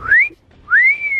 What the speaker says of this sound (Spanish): No puedo ni chiflar.